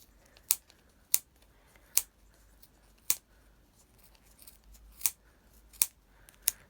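Sharp scissors snip through yarn several times at uneven intervals, each cut a crisp, close click in an otherwise quiet room.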